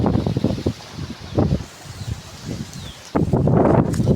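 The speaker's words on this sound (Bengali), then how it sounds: "বাতাসের শব্দ শুনুন কত জোরে জোরে।" Strong gusting wind ahead of a pre-monsoon storm under a darkening sky, buffeting the microphone in loud irregular bursts that drop away briefly, then surge back harder near the end.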